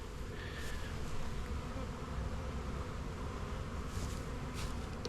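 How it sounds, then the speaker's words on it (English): A wasp hums near a beehive outdoors, a steady low drone with a brief higher whine as it passes close, over a faint constant background of buzzing. "That's a wasp. Looking for a place to call home."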